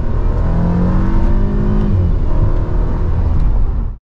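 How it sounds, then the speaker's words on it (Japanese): A red Mercedes-Benz SLK200 R172 roadster with an inline-four engine, a worn car-share vehicle, accelerates hard. Its engine drones loud and close and climbs steadily throughout, with no voices. "名前に S を冠するベンツの加速音をどうぞ。"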